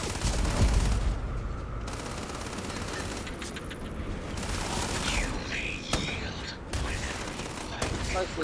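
Gunfire during a firefight in the video game Starfield, with bursts and shots scattered through a busy soundscape, partly beneath game dialogue and voices.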